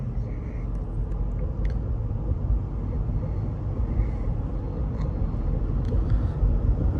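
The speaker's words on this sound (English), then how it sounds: "Drives really great, same as how it's pretty much always been." A 2022 RAM 1500 Limited 10th Anniversary Edition pickup truck driving, heard from inside the cab as a steady, loud low road and engine rumble with faint ticks and clicks over it.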